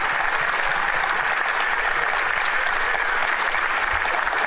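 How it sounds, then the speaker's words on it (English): Sustained applause from members in a parliamentary chamber, a dense, even clatter of many hands clapping at steady loudness throughout with no voices breaking through. "Sorry, Andrew, you got to wait for the clapping seals to stop"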